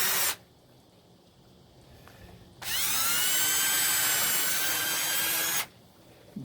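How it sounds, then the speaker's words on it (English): A round chainsaw file rasps through the hole of a homemade wooden self bow in one short stroke, then a longer sustained stroke of about three seconds, loud and close, with quiet gaps around it. "I just smooth it out with a file. The file I use is a round one, which is normally used to sharpen chainsaws."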